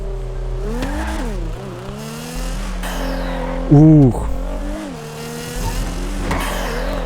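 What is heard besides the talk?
Nissan GT-R R35 car engine revving in GTA 5 video game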